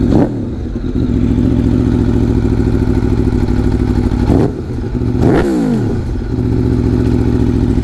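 A 2021 Aprilia Tuono V4 Factory motorcycle with its exhaust baffle removed idles with a loud, deep burble close by, then is revved sharply twice, each blip rising and falling quickly.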